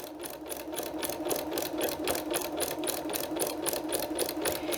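A sewing machine fitted with a walking foot stitches through a thick, multi-layered quilted place mat, running steadily throughout with a fast, even mechanical clatter, close and continuous.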